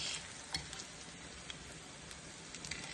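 Courgette fritters fry in a pan with a faint, even crackling sizzle and a few small ticks, heard close but quiet and without voices.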